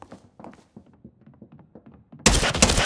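Video game gunfire erupts abruptly near the end as a loud, close burst of rapid shots, after a stretch of soft tapping and thumping sounds.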